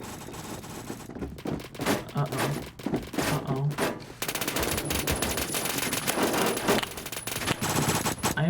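Rapid gunfire in a video game, bursts of automatic shots and scattered single cracks running dense and loud across the whole stretch, heavier and continuous in the second half.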